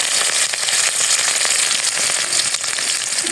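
Fenugreek, cumin seeds and green chilli crackle and spit in hot oil in a home kitchen, a dense, steady sputtering that stays loud and close throughout, with no talking.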